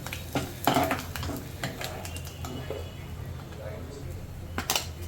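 A tempering of garlic, mustard seeds, cumin, turmeric and asafoetida sizzles in hot oil in a pressure cooker, giving a steady close crackle with sharp pops and spoon clinks, while someone talks over it.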